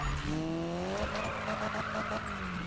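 Tires skid and squeal as a car drifts through a corner in a racing video game, a continuous screeching tone over engine drone, loud and steady for the full few seconds with no talking.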